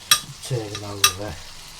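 Roast apples and pork flipped in a hot pan of juices, two sharp clacks of the turning utensil with a short sizzle and stir in between, close and fairly quiet.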